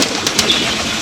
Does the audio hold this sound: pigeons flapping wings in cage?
yes